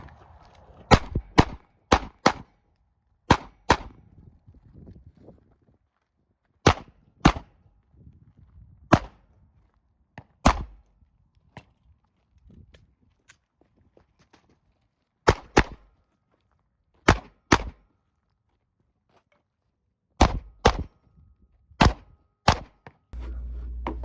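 Pistol fire at an IDPA shooting match: sharp, loud shots in quick pairs and short clusters, separated by quiet pauses and faint movement sounds, about two dozen reports in all.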